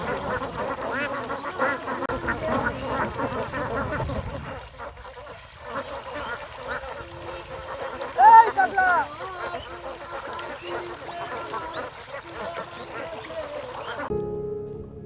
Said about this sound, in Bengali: চমৎকার একটা দৃশ্য অনেকগুলো হাঁস গোসল করতেছে এখানে